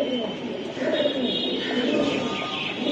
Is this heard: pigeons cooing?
yes